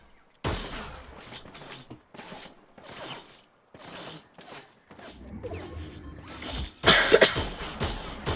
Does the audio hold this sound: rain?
no